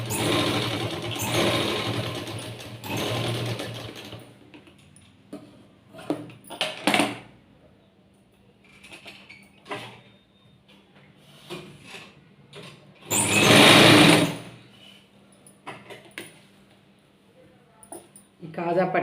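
Sewing machine stitching along the edge of a folded buttonhole strip for a blouse, running in two loud bursts at the start and middle, with someone talking and quiet handling noises between them.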